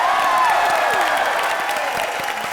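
A studio audience on a comedy show applauds and cheers loudly as guests come on stage, sustained clapping with a few whoops and a brief sliding musical tone.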